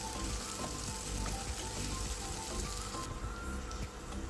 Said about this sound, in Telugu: ఒక టేబుల్ స్పూను అల్లం వెల్లుల్లి పేస్ట్ కూడా వేసుకొని పేస్ట్ పచ్చివాసన పోయేదాకా ఫ్రై చేసుకుందాం